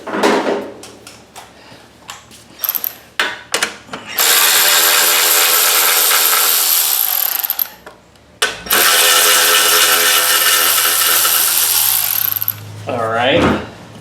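A power driver whirs loudly in two long sustained bursts to back 8mm 5/16 screws out of a lawnmower, preceded by clicks and clatter of handling, with a short winding-down whine at the end.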